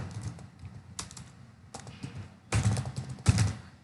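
Fingers typing on a computer keyboard up close, uneven bursts of key clicks with short pauses, a denser, louder flurry toward the end.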